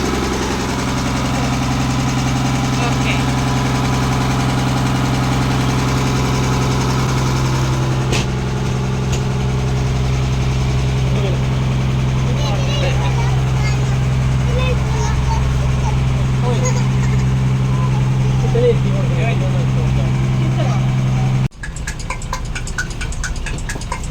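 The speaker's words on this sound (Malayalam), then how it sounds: "ഈ ബോട്ടിൻ്റെ എൻജിൻ എന്ന് പറഞ്ഞ സംഭവത്താണ് ഇവിടെ നല്ല സൗണ്ട് ഉണ്ട് കേട്ടോ" A boat engine runs at a steady idle, a loud, even low drone that continues almost unchanged before it suddenly stops near the end, with no talking over it.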